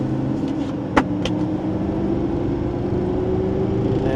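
A GM L5P diesel truck running a Banks Derringer tuner launches hard with all four wheels spinning, a steady loud engine roar with a rising tone and a couple of sharp clicks near the start.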